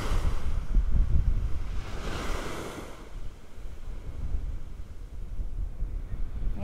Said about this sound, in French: Je vous invite à vous laisser bercer par le doux murmure des vagues,